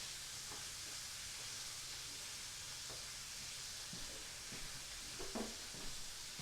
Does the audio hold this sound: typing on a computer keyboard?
no